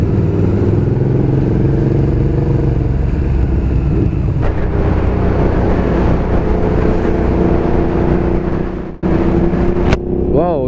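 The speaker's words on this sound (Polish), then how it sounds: "Wow, ile motocykli jedzie." Sport motorcycles such as Suzuki SV and GSX-R, Yamaha Fazer, Honda Fireblade and KTM riding past in a group, loud continuous engine drone with rising revs, and a voice talking over it.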